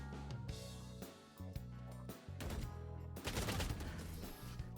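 Rapid gunfire in a 1v1 shooter video game, dense bursts of automatic shots cracking loudly one after another with short gaps between volleys.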